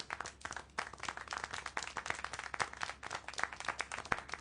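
Hands clap in a fast, uneven patter of sharp, close claps that keeps going without pause for several seconds.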